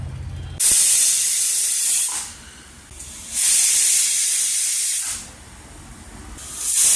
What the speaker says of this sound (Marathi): तर आपल्या कुकरला आता टोपण लावून घेऊ आणि मस्त आता ह्याच्या 3-4 शिट्ट्या मारू